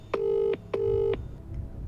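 In the Who Wants To Be A Millionaire video game, a phone rings out twice with even electronic tones, each about half a second long, before a quieter hum of background noise follows.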